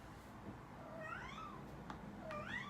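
A cat meows twice, fairly soft and nearby, each a drawn-out, rising and falling cry over a low background hum.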